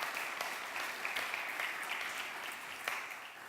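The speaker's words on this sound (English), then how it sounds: "Let's have a round of applause for Julie's family" Crowd applauding a mayor's family at a city State of the City address, a soft, steady patter of clapping from a distant audience throughout.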